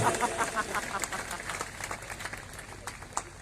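Audience clapping at a live devotional jagran in Ratangarh, a dense, steady patter of many hands at moderate distance, holding throughout without a break.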